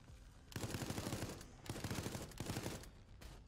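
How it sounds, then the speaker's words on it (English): Gunfire in the game Mastermind: Project Resistance, two long bursts of rapid automatic shots with a short gap between, loud and close, then a brief tail of shots. "so I will fire the guns"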